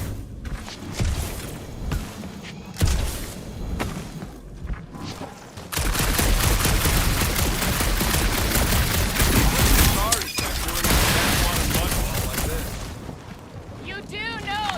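Rapid, continuous gunfire in Marvel's Guardians of the Galaxy, starting as scattered shots, then swelling into a loud, sustained barrage from about the midpoint on.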